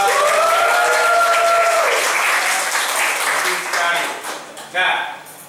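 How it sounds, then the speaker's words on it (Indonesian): An audience applauds loudly in a classroom or hall, sustained clapping that fades toward the end, with a voice sounding over the start and a few separate claps at the close. "Ayo kita tepuk tangan"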